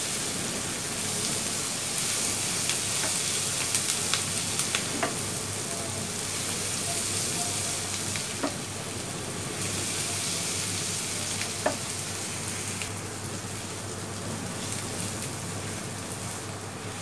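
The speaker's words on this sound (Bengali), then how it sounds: "আর একটু ভাজতে হবে।" Onions fry in a pan for a fish fry, a steady, dense sizzle like light rain, with occasional soft clicks of a spatula stirring them, close and even throughout.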